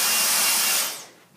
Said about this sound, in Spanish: pasa la aspiradora